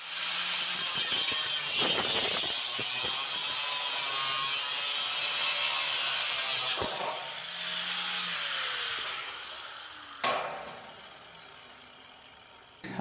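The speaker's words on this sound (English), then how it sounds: "Next, I'm just going to cut this old stuff and this old channel off." Old metal channel being cut off a trailer with a power tool, a loud close grinding rasp running continuously, dropping briefly and resuming, with a sharp knock near the end.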